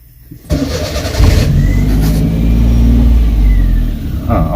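A car engine cranks and catches, then settles into a loud, steady idle with a slight rev, close by after a brief quiet moment at the start.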